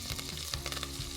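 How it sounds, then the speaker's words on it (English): Mustard seeds and curry leaves sizzling in hot oil, a faint, brief crackle with light popping, heard alone. "The mustard seeds are popping."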